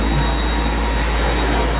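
A household vacuum cleaner runs in a condo, a steady loud broadband roar with a low hum that holds evenly throughout, no voices over it.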